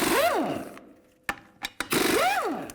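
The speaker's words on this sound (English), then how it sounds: "take the lug nuts off" A power tool spins lug nuts off the front wheel of a 2011-19 Ford Police Interceptor Utility with a 19mm socket: two whirring bursts that rise and fall in pitch, with sharp clicks and knocks between them.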